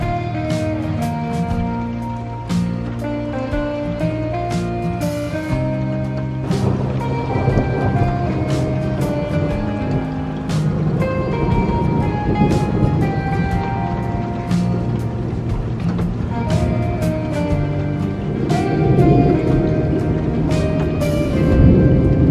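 Heavy rain pours steadily while deep thunder rumbles roll through, with a sustained tonal hum running underneath.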